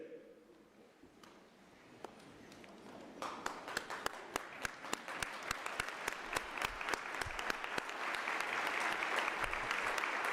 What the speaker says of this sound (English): may I request that we all stand up and give the heroes a standing ovation